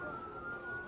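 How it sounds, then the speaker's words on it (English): Air raid sirens sound across Tel Aviv, a steady sustained wail holding one pitch, fairly faint and distant under a murky background. "And air raid sirens, you can beginning to hear them"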